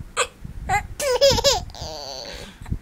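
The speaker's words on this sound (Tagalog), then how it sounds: "Tatawa ka sa sinok ni Daddy ah." A man hiccups while a baby laughs in short, excited, high-pitched bursts close by, the hiccups landing as sharp little gulps between the giggles.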